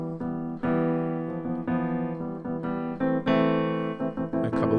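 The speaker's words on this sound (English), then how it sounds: "So let's just take a look at the soft pedal." A Fazioli grand piano played with the soft pedal, a handful of muted, mellow chords and notes struck one after another with gentle ringing decay, close and unaccompanied.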